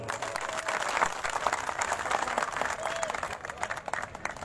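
An audience at a political speech claps and applauds steadily for several seconds, a dense wash of hand claps at moderate distance.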